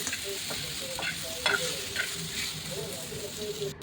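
Garlic and grated coconut sauté in a pan for homemade misal, with a soft, steady sizzle and scattered light stirring taps, fairly quiet and with no voices.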